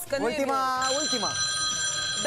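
A telephone rings with a bright, steady electronic tone inside a cramped phone booth, sounding loud and near while people talk excitedly over it.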